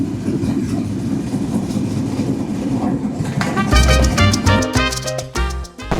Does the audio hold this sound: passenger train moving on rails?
yes